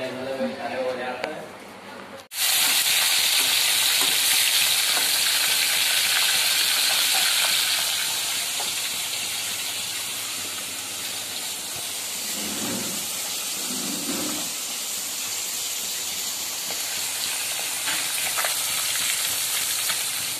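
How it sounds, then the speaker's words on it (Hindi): Potatoes and pointed gourd frying in a pan, a loud, steady sizzle that starts abruptly and continues throughout, with some stirring noises partway through. "आलू पटल फ्राई कर रहे हैं"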